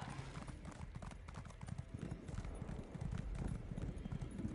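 Hooves of a horse mount clip-clopping in the Elder Scrolls Online game, a steady rapid rhythm of hoofbeats at moderate volume that continues throughout without pause.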